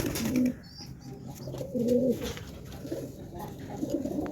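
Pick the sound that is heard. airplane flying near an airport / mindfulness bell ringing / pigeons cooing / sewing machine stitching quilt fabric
pigeons cooing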